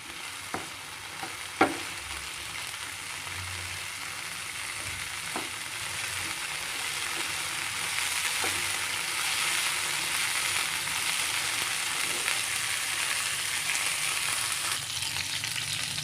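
Vegetables fry in oil for rathan pulao, a steady, close sizzle with occasional clicks and taps of a stirring utensil and no talk.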